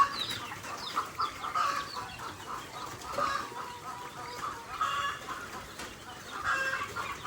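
Chicks clucking and peeping at feeding time on a farm, a steady busy chorus of many small birds with overlapping calls, moderately near, no talk.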